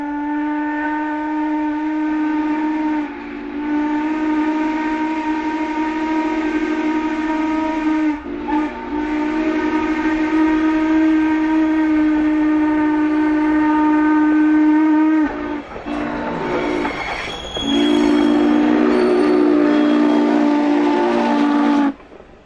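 Steam locomotives 611, a big Class J 4-8-4, and 475 run together as a doubleheader on the Strasburg Rail Road, a loud sustained steam whistle chord blowing near-continuously with brief breaks and heavy rumbling train noise beneath, no talk.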